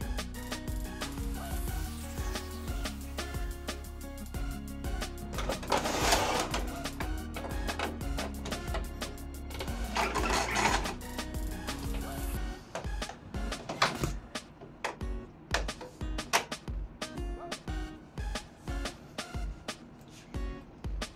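An Epson L120 inkjet printer powering on after a print head replacement, its carriage initializing with whirring motor drive followed by a series of rapid clicks and mechanical ticks, close and alone.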